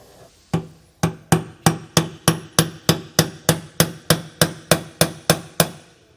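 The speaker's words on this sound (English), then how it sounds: "We've got a 10mm socket that fits over the Zerk fitting, so we can drive this bolt in." Steady hammer blows drive a bolt in through a 10mm socket set over a Zerk fitting on a leaf spring suspension kit, about sixteen sharp metallic strikes at an even, brisk pace, close and loud with no talking.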